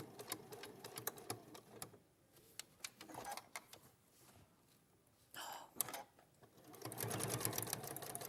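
A Handi Quilter sewing machine stitches a cross, giving a rapid needle chatter in short runs with quiet gaps, fairly faint and close, louder toward the end.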